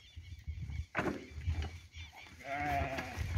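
A flock of breeding ewes on a sheep farm bleats repeatedly, several voices near and far overlapping with a constant rustle of livestock, one loud harmonic bleat standing out near the end.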